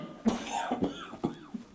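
A person coughs several times in quick, harsh bursts, close and fairly loud, with short breaths between the coughs.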